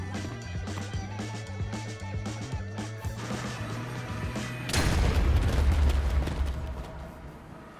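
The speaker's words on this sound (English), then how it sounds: "Ich wusste nicht, dass es die Explosion macht." A loud explosion booms partway through play in the Minecraft modpack ATM10 during a hardcore boss fight, with a deep rumbling blast following earlier game sounds and music.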